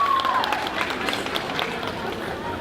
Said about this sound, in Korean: 심판들이 합산한 선수들의 점수가 발표될 때마다 관객석에서 응원의 박수가 터져나옵니다.